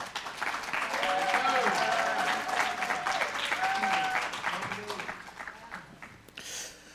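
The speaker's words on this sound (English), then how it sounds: "Join me in a big round of applause" Sustained applause from an audience fills the room, steady and dense for several seconds before tapering off near the end.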